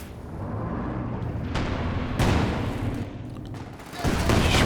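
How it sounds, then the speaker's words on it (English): Artillery barrage and gunfire in Company of Heroes 2, a continuous loud roar of blasts and shots with heavier booming bursts rising throughout. "Barrage onto the Fallschirmjäger."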